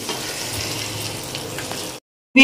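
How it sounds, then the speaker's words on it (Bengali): Pointed gourd fries in a little oil, making a steady, close hiss and sizzle for about two seconds. It stops abruptly, then a brief louder sound follows. "অল্প তেলে দেখো পটল ভাজা হয়ে গেল, তেল আবার রয়েও গেল।"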